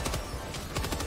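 Rapid machine gun fire in the video game Helldivers 2, a quick burst of close, punchy shots in a tight rhythm.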